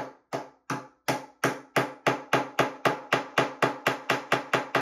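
A 3D-printed hammer strikes a nail into wood repeatedly in a steady, quickening rhythm, about twenty sharp, ringing blows close by, with no talking.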